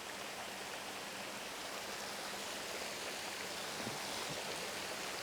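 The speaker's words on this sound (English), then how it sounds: "Check this waterfall out." At a motorway service station, a waterfall gives off a constant, even hiss of falling water. It is faint and unbroken for several seconds, with no voices.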